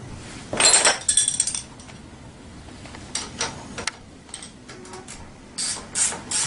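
A ratchet tightens a nut during the assembly of a Tao Tao 90 dirt bike, heard close up as several short bursts of quick clicking separated by quiet gaps.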